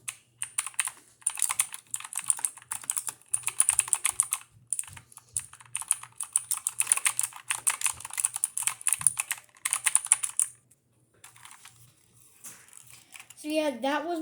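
Rapid, continuous clicking of WASD keys on a 1UP gaming keyboard, close and crisp, with dense bursts and brief pauses, then a voice starts speaking at the end.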